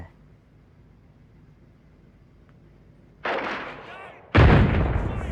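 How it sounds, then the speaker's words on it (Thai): Explosions in the video game Arena Breakout: after a quiet low hum, two loud booming blasts hit in quick succession, the second heavier, each trailing into a rumbling decay. "จากเสียงระเบิดตะกี้"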